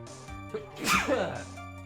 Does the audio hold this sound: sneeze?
yes